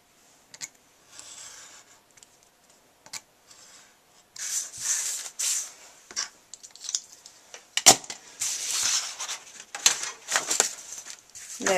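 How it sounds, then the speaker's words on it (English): Craft knife drawn along a ruler through thin card for a matted greeting card, a series of close, rasping scrapes and strokes, intermittent with short pauses between passes. "Then I'm going to take a craft knife and a ruler and cut around it."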